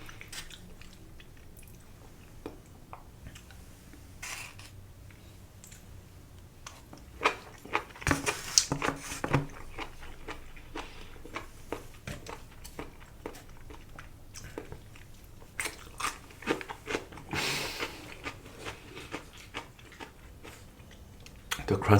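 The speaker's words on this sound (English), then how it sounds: "The crunch of that ginger is so good." Pickled ginger eaten with sushi is crunched and chewed close to the microphone in irregular, moist bursts of bites and chomps that carry on throughout.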